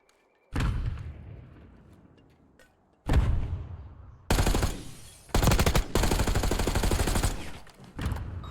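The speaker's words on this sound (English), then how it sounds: "Crazy wall bang right here." Gunfire shot through a wall in a tactical multiplayer video game match, with a few single loud shots followed by longer sustained bursts of rapid fire, close and punchy, no talk.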